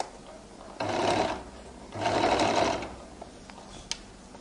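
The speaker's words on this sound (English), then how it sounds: "I roll it open, and then I'll begin to stitch" Two short bursts from a sewing machine stitching a flared skirt seam, close and fairly quiet, separated by a brief pause.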